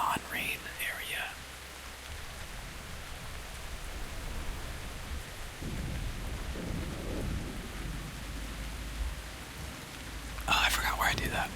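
Rain patters steadily in World of Warcraft on Siren Isle, with rumbling thunder beneath and a soft whispering voice over parts of the downpour.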